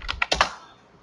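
A handful of quick keystrokes on a computer keyboard enter a password, close and crisp, four taps within half a second followed by quiet.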